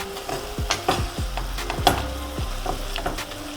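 Chicken filling for a homemade chicken pizza sizzles steadily in a pan, with several distinct scraping stirs of a spoon against the pan breaking through the frying hiss.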